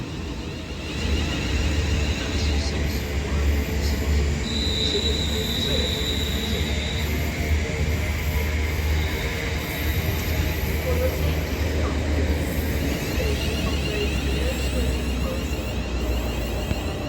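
A Class 350 electric multiple unit train passes on the West Coast Main Line at Runcorn, a steady loud rumble and whine of wheels on rails sustained throughout, with a faint background voice.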